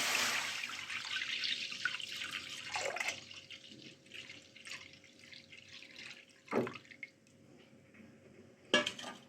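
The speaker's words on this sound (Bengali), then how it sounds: "এবারে আমি 1 লিটার দুধ দিয়ে দেবো আমি এর মধ্যে।" One litre of milk poured into a kadai set on a gas flame for mango kalakand: a steady, soft liquid rush with occasional splashes and a couple of sharper clinks from the pan, heard up close.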